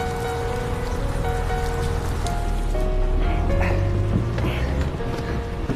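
Heavy rain pours down steadily, a dense continuous wash of falling water with scattered drips and some low traffic-like rumble beneath, loud and close throughout.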